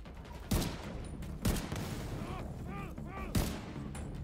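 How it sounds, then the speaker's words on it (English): Gunfire in The Division 2 video game on Xbox One X: three loud, sharp shots about a second apart over a steady background din, with faint electronic tones between them. "I'm gonna shoot that so I don't have to worry about somebody catching me on fire."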